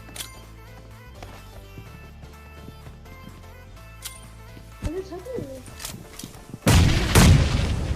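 A bomb goes off in PUBG, a sudden loud, booming blast near the end after scattered game sounds and quieter gunfire-like pops, with someone talking.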